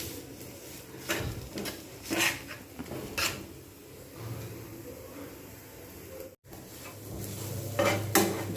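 A spoon scrapes and knocks against a pan while dry potato filling is stirred, producing irregular close clinks and scraping strokes over a faint low sizzle, with no talking.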